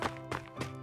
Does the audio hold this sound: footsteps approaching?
yes